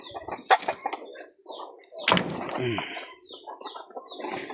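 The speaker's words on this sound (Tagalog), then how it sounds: "May manok din po ako dito sa kabila." Chickens cluck in short bursts close by, with scattered bird calls and a knock, under a quiet background.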